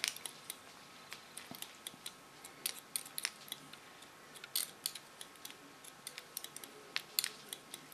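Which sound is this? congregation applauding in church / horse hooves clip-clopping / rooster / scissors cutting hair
scissors cutting hair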